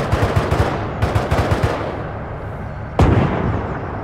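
Rapid bursts of heavy gunfire and loud booming shots in a WW2 battle game, with clustered reports early on and a single sharp, powerful artillery-like blast later that rings out and decays.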